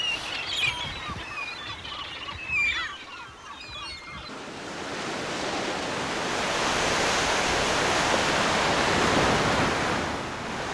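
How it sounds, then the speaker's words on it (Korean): Huge ocean waves churned up by a sudden typhoon build into a broad, loud surging roar, preceded by a few seconds of distant bird calls over softer surf. "갑자기 불어닥친 태풍으로 바다는 집채만한 파도를 만들어낸다."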